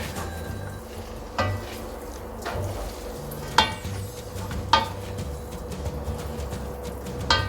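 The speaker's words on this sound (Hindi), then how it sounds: "तो फ्रेंड्स अभी हम नूडल्स को अच्छे से मिक्स कर लेंगे।" Veg Hakka noodles stirred and tossed in a pan while they sizzle, with soft frying hiss under several sharp clinks of a utensil striking the pan at irregular intervals.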